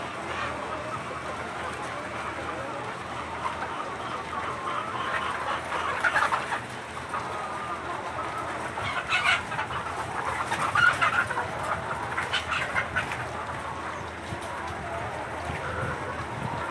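Many chickens cluck and chatter together inside a closed-control poultry shed, a dense, continuous flock murmur with louder squawks now and then.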